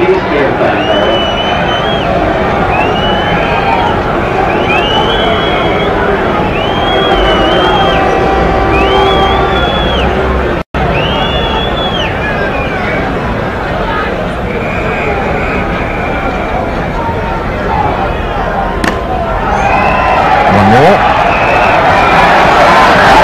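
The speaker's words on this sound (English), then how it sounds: "Crowd run on the field thinking that's it," A dense, loud stadium crowd at a 1983 World Cup cricket semi-final, West Indies against Pakistan, roars and cheers as spectators run onto the field, with whistles and a commentator talking over the din.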